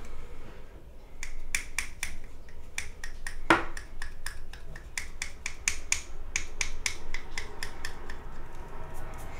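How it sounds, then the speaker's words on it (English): Knife blade scraping bassoon reed cane against the plaque, a series of sharp dry scratchy strokes in a steady rhythm, close up over faint background noise with no talking. "that's a good sound, because that means the knife is coming off on the plaque"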